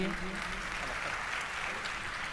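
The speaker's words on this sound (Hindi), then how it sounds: "तालियों के साथ वंदन कीजिए" A large seated crowd at a religious gathering attended by the Madhya Pradesh chief minister breaks into steady, dense applause that holds at an even level throughout.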